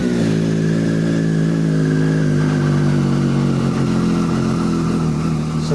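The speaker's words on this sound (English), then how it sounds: "I'll turn the engine off." A Triumph Street Triple 765 R motorcycle engine idles steadily nearby, a loud, constant low rumble with no revving and no talk.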